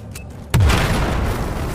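A single loud, close explosion in Battlefield 4, set off during a military action mission in Baku: a sudden deep boom that hits hard and then rumbles and hisses away with a long tail.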